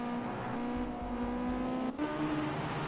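Ginetta GT5 race cars lapping a track in the racing game Project Cars 2, engine drone rising and shifting in pitch with steady revving, close and continuous, with a brief dip midway.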